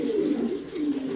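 Grizzle racer pigeons, cocks and hens, coo close by in two low, throaty rolling phrases, with no talk over them.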